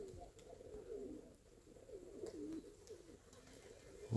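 Pigeons in a backyard loft coo softly and repeatedly in low rolling murmurs, moderately near against quiet outdoor background, with no speech.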